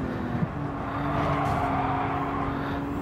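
A turbocharged car engine in Gran Turismo 7 drones at steady high revs, a constant mechanical hum with a faint rising whine, no talking.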